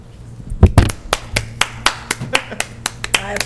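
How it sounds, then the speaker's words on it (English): Hand clapping at a township supervisors' meeting: a dozen or so sharp, separate claps in a slow, steady rhythm, close and distinct, like one or a few people clapping rather than a full crowd. "I applaud you thank you."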